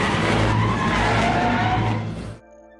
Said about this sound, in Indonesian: driver langsung memutar balik mobil, lalu pergi menuju rumah sakit yang dimaksud